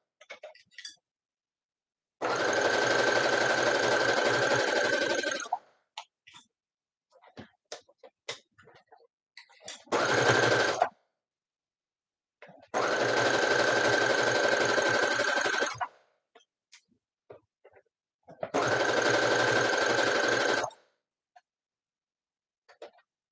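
A sewing machine stitches fabric for a pink bunny beanie in four separate runs, three long bursts and one short one, each a steady mechanical whir, with quiet gaps and faint handling clicks between them.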